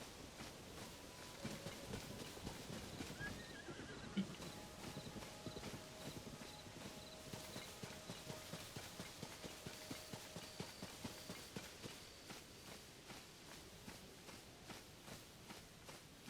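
Hooves clop along in a steady walking rhythm, with a brief horse whinny early on, set against a soft background, in The Legend of Zelda: Tears of the Kingdom.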